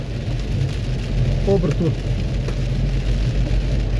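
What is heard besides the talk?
heavy rain downpour heard from a driving car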